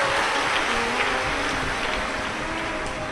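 A crowd at a Hindu Shiv Mahapuran religious discourse claps loudly, a dense, unbroken wash of applause lasting the whole moment, with no talking.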